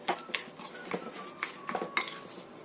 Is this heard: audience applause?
no